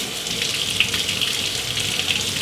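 Hot water runs from a household tap right after a tankless water heater is descaled, making a steady, even hiss of flowing water that stays at one level throughout with no voices.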